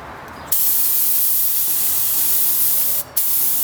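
Spray gun laying a coat of candy brandywine paint on a lowrider, a steady loud hiss of spray running continuously with a brief pause near the end.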